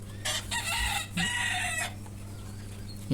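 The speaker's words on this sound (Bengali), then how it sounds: "এই যে এই 2টা মুরগি দেখতেছেন, এগুলো একদম নতুন প্যারেন্টস" Chickens on a poultry farm give loud, close crowing calls in two drawn-out bursts, followed by a quieter cluck at the end.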